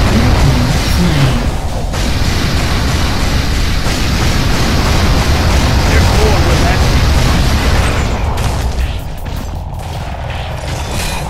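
Loud, continuous roar of rushing floodwater and rumbling blasts in Unreal Tournament 3 as floodgates release and a core floods, steady and dense throughout, easing slightly near the end, with announcer voice lines over it.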